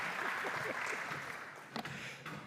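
Rotary club meeting attendees clapping together in a room, a soft, steady patter of many hands at a distance, fairly faint throughout.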